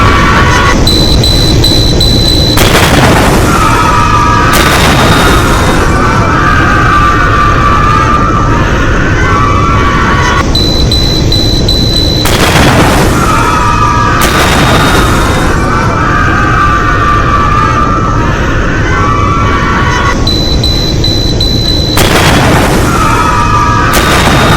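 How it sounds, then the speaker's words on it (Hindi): A car explosion near Delhi's Red Fort at night comes through as heavy, loud booming bursts repeating in pairs several times over a constant roaring rumble, saturated and harsh, with no clear speech. "जोरदार धमाका होता है।"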